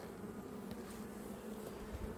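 Honeybees in a newly transferred split hive give off a faint, continuous, steady buzz that stays close and even for the whole moment.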